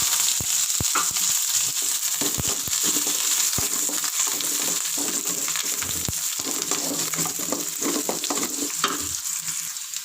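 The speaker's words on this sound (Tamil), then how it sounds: "இப்போ வெங்காயமும் பச்சை மிளகாவும் போட்டுக்கோங்க." Chopped onions and green chillies, added to dried red chillies, frying in a pan with a steady bright sizzle, broken by scattered clicks and scrapes of stirring.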